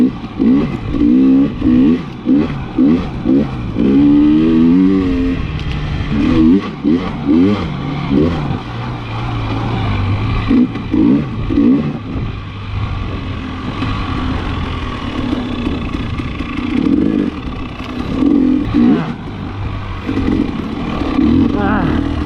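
KTM 300 XC-W TPI two-stroke dirt bike ridden along a deep sand trail in Croom, Florida, its engine revving up and down in repeated bursts close to the microphone, with a voice talking over it at times.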